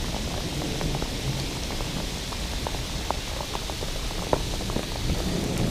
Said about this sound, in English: Don't worry, it's only hailing now.